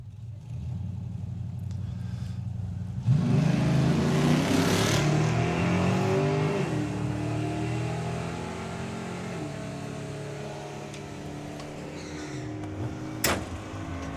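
A BMW drag racing car launches and accelerates hard down the strip at a drag racing meet, its engine note rising loud and close over a steady background roar, with a sharp clack near the end.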